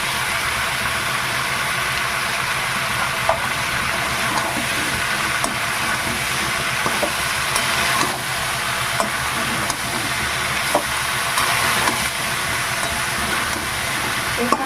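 Spice paste hits red amaranth greens frying in a pan, giving a steady, fairly loud sizzle with faint clicks of stirring throughout and no talking.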